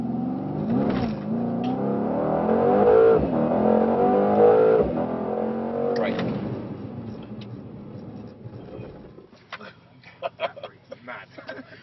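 A Mercedes C63 S on a race track holds full throttle, its engine droning loud and rising in pitch through gears, with a person talking over it before the sound fades into quieter rumbles.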